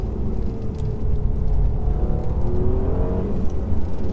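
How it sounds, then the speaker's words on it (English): A 2019 Mercedes E450 4MATIC coupe in Sport Plus mode accelerates hard, its engine note rising steadily with quick gear changes, loud and continuous from inside the cabin. "Very aggressive gear changes in Sports Plus."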